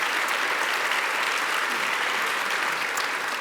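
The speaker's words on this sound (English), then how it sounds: "please join me in a round of applause" A conference audience gives a steady round of applause, dense clapping that holds evenly throughout, with no talk.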